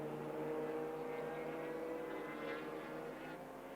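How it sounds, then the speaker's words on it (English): A Mazda MX-5 race car, number 37, pulls out of the pit lane during a club endurance race at Rockingham, its engine drone steady and moderately loud amid broader circuit noise, with no talking. "back out of the pit lane goes the 37 Mazda MX-5"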